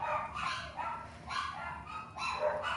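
Several household dogs bark in repeated bursts, a few quick yaps at a time with short pauses between, close and moderately loud with no talk over them.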